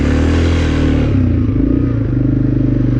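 Four-wheeler engine running up close on a rainy ride, a loud steady low drone with a throbbing pulse that shifts slightly in pitch partway through.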